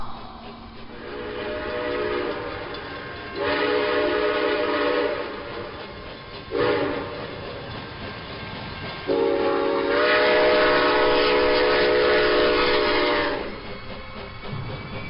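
A train rolls past with a steady rumble while its horn sounds in several long, loud blasts, some overlapping.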